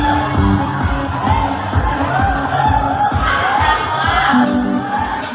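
A loud, close crowd at a barangay fiesta singing contest in Malainen Luma, Naic, Cavite roars, whoops and shouts continuously for a band, with children's voices and yells rising through the din.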